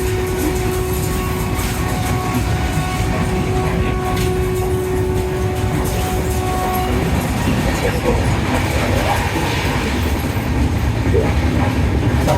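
A train to Mumbai rolls steadily along the rails with a constant loud rumble, rhythmic clatter and a humming drone heard from inside an AC carriage.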